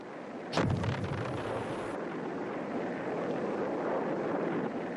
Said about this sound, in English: The Commando Hunt bombing campaign was hitting the North Vietnamese transport system